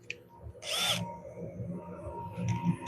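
A power drill fitted with a sanding attachment works over a wooden bowl, its motor whining in a brief high-pitched burst before settling into a steady lower drone, close and moderately loud.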